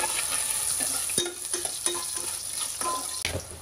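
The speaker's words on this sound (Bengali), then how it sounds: "পেঁয়াজটা একটু হালকা বাদামি করে ভেজে নিব।" Onions frying in a pan, a steady close sizzle broken by several soft knocks and scrapes of a spoon stirring at an uneven pace.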